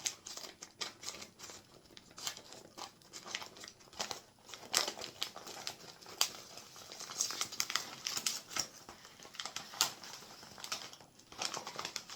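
Crinkling plastic packaging and paper as a parcel from a herbal tea shop is unwrapped, a close, quiet stream of rustles, crackles and sharp tearing snaps.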